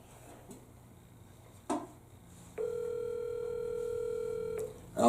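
A phone call rings out with a steady electronic ringback tone lasting about two seconds after a couple of clicks, fairly close and clear, with no talking.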